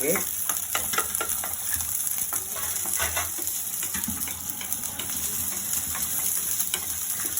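Food frying and being stirred in a pan until light brown, a steady close sizzle with scraping stir strokes throughout, no talking.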